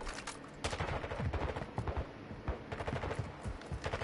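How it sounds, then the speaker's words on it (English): Heavy automatic gunfire in Spec Ops: a dense, continuous stream of rapid shots and bursts at close range, loud and unbroken for several seconds. "Taking heavy fire."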